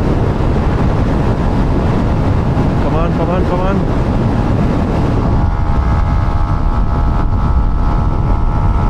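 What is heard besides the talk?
heavy wind while riding a Yamaha MT15 motorcycle at speed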